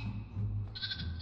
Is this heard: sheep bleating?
yes